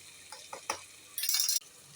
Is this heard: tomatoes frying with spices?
yes